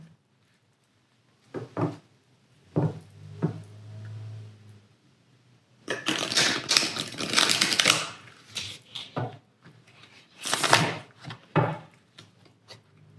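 Tarot cards are shuffled in bursts, with short riffling rustles early on, then a long dense flurry of card-on-card slapping and a final sharp riffle, close and fairly loud with quiet gaps between.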